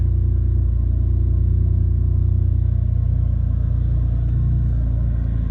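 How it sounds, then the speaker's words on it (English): Car engine idling and rumbling as the car reverses slowly out of a parking spot, a steady loud low drone with no voices. "See if I can back out of here without backing into anything."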